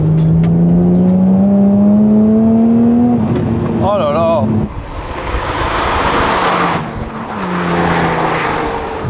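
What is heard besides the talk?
Ferrari flat-12 5-litre engine revving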